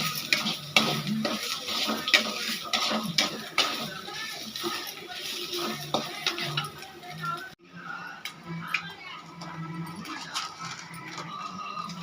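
Lentil balls and ingredients frying in a pan until golden for a Tamil lentil ball curry, a steady close sizzle with scattered clinks and stirring taps that thin out and grow quieter partway through.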